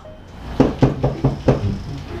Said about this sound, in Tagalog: O, may kumakatok.